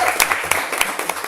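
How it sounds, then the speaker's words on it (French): A few scattered claps from a live audience at a podcast event in Rennes, brief and uneven, with sharp individual hand claps popping up over a faint room background. "Et vous pouvez juste l'applaudir pour ça,"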